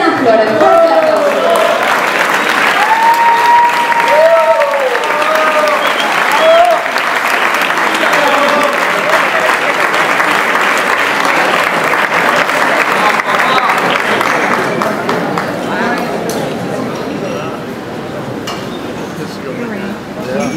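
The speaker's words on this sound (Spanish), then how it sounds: "Quiero que lo recibamos con un muy fuerte aplauso, Eduardo Capuzzi y Mariana Flores." An audience at Soho Tango, a milonga in Buenos Aires, gives a long, loud ovation of dense, sustained clapping, with some raised cheering voices early on, easing slightly near the end.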